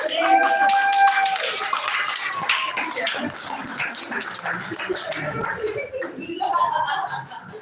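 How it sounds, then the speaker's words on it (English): An audience at an improv comedy show applauding at the end of the night, scattered claps with some voices mixed in, fading slightly toward the end. "let's give him a round of applause."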